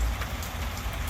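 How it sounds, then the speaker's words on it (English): Steady rain falls across a backyard, a dense, even hiss of drops hitting surfaces with faint scattered patters, no voices. "Yeah, it's a beautiful rainy day."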